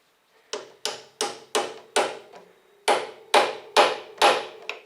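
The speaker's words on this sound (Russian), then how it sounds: "Клин у меня есть новый, каленый. Забивается он с внешней стороны." A new hardened steel wedge is hammered into place on an M-62 engine fitting, nine sharp metallic blows in a steady rhythm with ringing decay, close and clear, no talk.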